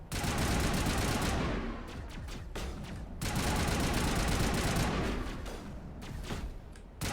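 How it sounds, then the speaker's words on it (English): Rapid bursts of gunfire from a sci-fi shooter game, loud and sustained in two long volleys with a short lull between, no voices over it. "I'm gonna shoot him"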